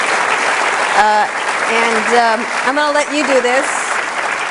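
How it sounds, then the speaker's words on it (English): Audience applause fills a hall at a Commonwealth Club interview event, clapping continuing underneath someone speaking over it. "Everyone, let's give a big round of applause for Jack."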